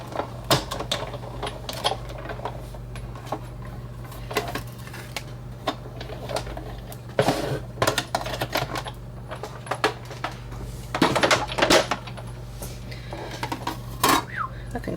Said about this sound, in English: my die cut machine, my little cutting pad is well loved,